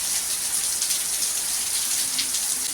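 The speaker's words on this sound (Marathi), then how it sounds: "तासभर झाला असा पाऊस पडतो" Heavy rain pours down steadily, a dense, even hiss of drops drumming on surfaces close by, with no break for the whole stretch.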